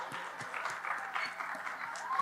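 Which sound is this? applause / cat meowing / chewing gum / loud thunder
applause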